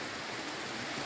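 Heavy rain pours steadily outside an Appalachian Trail shelter, a dense even hiss of falling water, quiet and unbroken for about a second.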